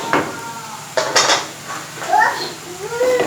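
Rice being mixed with vegetables and spices in a metal pot, several clanking scrapes and knocks of a spoon against the pot in quick bursts, close and fairly loud, with faint voices in the background.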